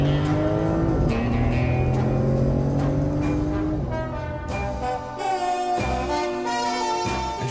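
An Aston Martin Vanquish S engine drones and revs loudly over several seconds, its pitch rising and falling with shifts, close and dominant with no talk.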